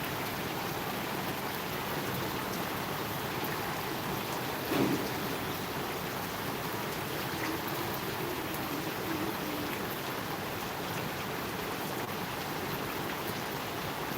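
Steady rain falls continuously throughout, a dense even hiss with a brief soft knock partway through and no voices.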